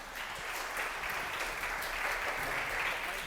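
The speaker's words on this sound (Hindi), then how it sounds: "एंड जोरदार तालियों से स्वागत करते हैं हम एक बार और" An audience at an expert talk seminar applauds to welcome the guest of honor, a dense, steady wash of clapping at moderate loudness lasting the whole few seconds with no voices over it.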